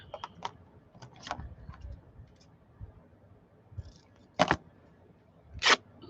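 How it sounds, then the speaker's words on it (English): Cotton fabric is torn by hand in two quick, loud rips near the end, each a short crisp burst, after a stretch of faint scattered clicks and handling noise. "It's very satisfying to hear that fabric rip."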